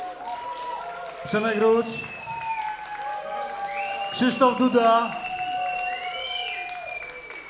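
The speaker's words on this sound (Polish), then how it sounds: "Podziękujmy brawami naszym wykonawcom." A concert crowd claps and cheers for the performers, the applause rising in swells beneath a voice announcing over a microphone.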